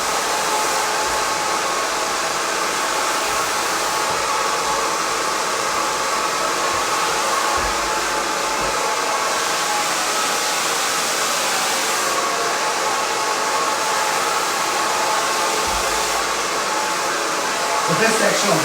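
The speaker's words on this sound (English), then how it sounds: "You can blow dry this towards your face" Hair dryer blowing continuously while drying layered hair at home, a loud steady whoosh close to the microphone with a voice talking faintly underneath.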